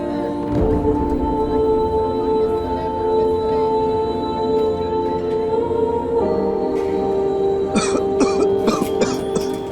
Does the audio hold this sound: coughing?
yes